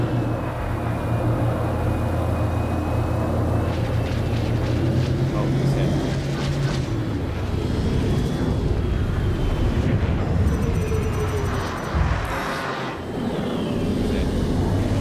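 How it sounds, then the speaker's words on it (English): In the Star Citizen video game, a spaceship's engines boost with a loud, sustained rumbling roar and rising whine, heavy and continuous throughout, with a voice speaking over it. "Engine boost."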